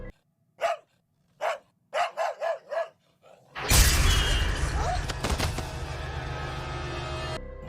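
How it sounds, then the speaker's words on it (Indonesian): A dog named Lucky barks in a series of sharp, separate yelps, several in quick succession. They are followed by a sudden loud crashing burst that fades slowly. "Namun terlihat anjing itu sedang menggonggong sesuatu."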